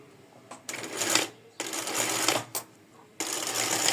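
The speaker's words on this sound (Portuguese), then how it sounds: "E vou costurar." A sewing machine stitches fabric and straps for a bra top, running in three short, close bursts of rapid whirring separated by brief pauses.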